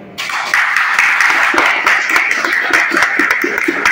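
Audience at a Tamil public event applauding a charitable trust, with dense rhythmic clapping close and loud, starting abruptly and holding steady for several seconds.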